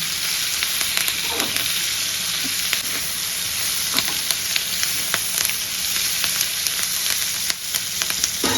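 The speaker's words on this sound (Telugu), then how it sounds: "ఫ్రెష్ కరివేపాకు కొంచెం వేసుకోండి వేసుకొని బాగా కలుపుకోండి" Fresh curry leaves fry in hot fat for a tomato pulao, giving a loud, steady sizzle broken by regular scraping taps of a stirring spoon against the pan.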